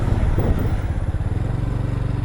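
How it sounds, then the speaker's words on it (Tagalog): A motorcycle passes close by on a goat farm, its engine giving a loud, steady, low throb with a rapid pulsing beat that fills the whole clip. "May motor ah."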